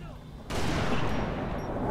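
Gunfire in the shooter game Halo Reach erupts suddenly after a short quiet moment and continues as a loud, dense burst of rapid shots to the end.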